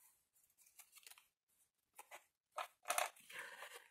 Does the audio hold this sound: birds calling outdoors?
no